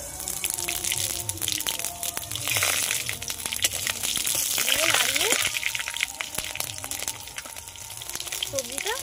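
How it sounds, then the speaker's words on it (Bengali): Whole spices crackle and hiss in hot oil as Bengali tempering of five-spice, bay leaf, dried red chilli and green chilli goes in, a steady close sizzle with scattered pops and faint background voices. "তেলটা গরম হয়েছে, ফোড়নটা দিয়ে নেব।"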